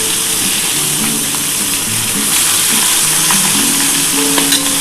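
Pomfret fish pieces frying in hot oil in a pan for a restaurant-style curry, producing a loud, continuous crackling sizzle close by, with occasional spatter pops and faint kitchen clatter.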